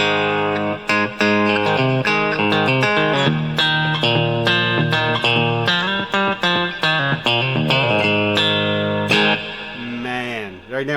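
A Harley Benton MAX Fusion Signature electric guitar, played on the split bridge pickup, rings out in quick, bright single-note and double-stop licks, loud and close with no voices over it.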